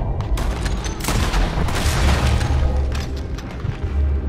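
Gunfire in a shootout in the video game Red Dead Redemption 2, loud dense booming shots and bursts overlapping continuously, close and heavy, with no talk.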